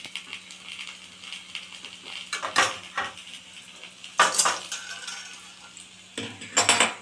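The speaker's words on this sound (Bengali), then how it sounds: "তো আমি অন্য কড়াই বসিয়ে দিলাম।" A metal kadai wok being set down on a kitchen stove, several sharp clattering metallic clanks at irregular intervals over quiet background noise.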